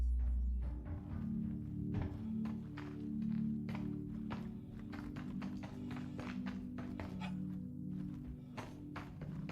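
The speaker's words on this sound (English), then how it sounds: "Someone is shooting a toy gun at me" Repeated sharp toy-gun impacts strike a player character in the space game Star Citizen, landing as an irregular run of close, crisp taps and thunks over a steady low engine-like hum, with no talking.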